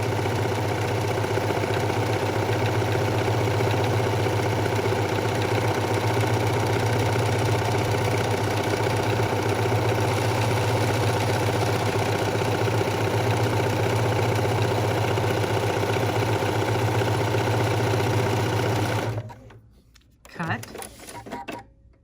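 A sewing machine stitches an ornament, making a loud, continuous mechanical drone close by for about nineteen seconds before it stops and a few quieter sounds follow.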